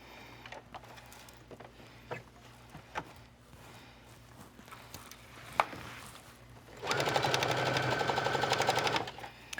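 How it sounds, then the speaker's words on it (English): A home sewing machine stitches a dress side seam from waistline to armhole, its steady whirring run loud for about three seconds near the end after quiet handling of fabric. "I'm going to stitch my side seam right from the waistline up to my armhole notch."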